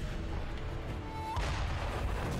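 A cannon booms in the video game Sekiro, a single deep blast with a sudden onset about midway through, sounding fairly close against steady background noise.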